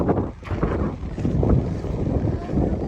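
Gusty wind on a beach in Qatar buffets and rumbles against the microphone continuously, a rough, blustery roar.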